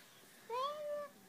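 A single short meow, bright and rising then falling, stands alone against a quiet room; it is a voice imitating a cat rather than a real animal.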